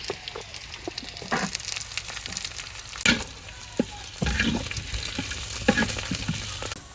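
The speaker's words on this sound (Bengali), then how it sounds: "আলুটা হালকা করে ভাজা দিয়ে নিছি" Potatoes fry in oil with onion, garlic and green chili in a village kitchen, giving a constant close sizzle broken by repeated scraping stirs and a few sharper spatula knocks.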